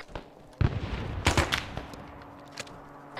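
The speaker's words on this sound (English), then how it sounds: "did someone just detonate a bomb on a bunker?" A bomb detonates on a bunker in Arma 3, a sharp broadband blast that rings out briefly, followed by a second heavier burst and a few smaller crackling reports fading into low background rumble.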